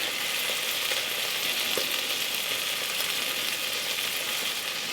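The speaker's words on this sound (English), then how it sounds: "I want to fry up this tomato paste" Tomato paste fries with onions and garlic in a pan, a constant close sizzling hiss with faint stirring taps, steady for the whole stretch and free of speech.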